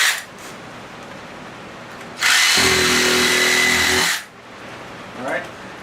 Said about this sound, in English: Grab the Sawzall.